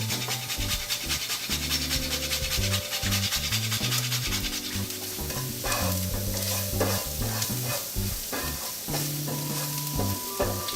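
A spinach soufflé base with pepper and grated nutmeg is mixed in a bowl, loud continuous scraping and stirring under steady background music with sustained tones.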